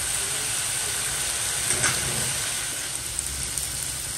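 Coconut and coriander paste sautéing in a pan for a prawn and potato gravy: a steady, fairly loud broadband sizzle and hiss runs throughout, close and continuous, with no talk.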